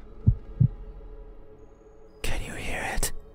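Two deep, thudding heartbeat pulses sound close and alone, followed by a burst of breathy, whisper-like noise.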